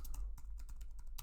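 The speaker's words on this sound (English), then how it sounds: "we're going to start typing these names in" Names being typed on a computer keyboard: quick irregular key clicks in short bursts, close and fairly quiet, with no talking.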